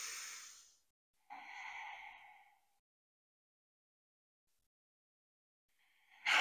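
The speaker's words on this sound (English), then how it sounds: "You're gonna take two more breaths here." Slow audible breaths held during a yoga crescent lunge, two soft airy exhales separated by silence, close and gentle, with another breath starting at the end.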